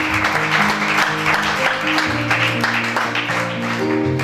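A church congregation claps steadily in a dense, continuous round of applause filling the room, with no talk over it.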